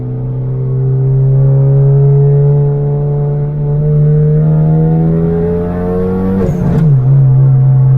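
A Hyundai Genesis Coupe accelerating hard with traction control off, the engine's loud close drone climbing steadily in pitch, then a sharp break at a gear shift before pulling again.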